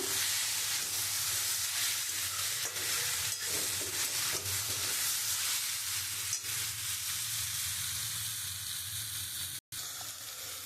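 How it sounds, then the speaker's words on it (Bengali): Rohu fish heads being stirred with papaya in a pan, giving a steady close sizzle and hiss with scraping stirs running throughout, alone and without talk. "এবার আমি মাছের মাথাগুলো দিয়ে দেবো দিয়ে আমি এক খুব ভালো করে নেড়ে চেড়ে নেব"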